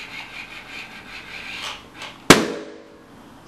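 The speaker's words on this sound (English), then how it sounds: "Now let's test out that laser gun." A homemade laser gun mounted on an FPV drone bot fires once, a single sharp crack that stands out loudly against a soft background rumble and quickly decays.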